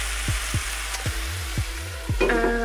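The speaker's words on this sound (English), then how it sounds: "I've added the meat and this is gonna cook away for a little bit." Ground taco meat sizzles steadily in a hot pan, a close continuous frying hiss with a few soft scraping sounds and no talking.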